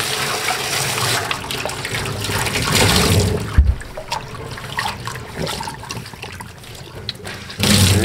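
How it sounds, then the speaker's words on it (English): Hot water runs steadily from a tap during a felting session, a continuous rushing splash that shifts in level and briefly drops off before surging back up, with no talk over it. "got my hot water going."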